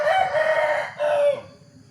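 A young rooster of Thai fighting stock, a short-legged southern type, crows once loudly and close, the call breaking briefly and resuming, with no talk over it.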